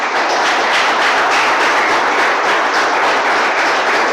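A church congregation applauding in a dense, sustained wash of clapping that holds steady and loud throughout, with no voices breaking through.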